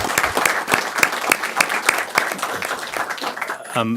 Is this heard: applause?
yes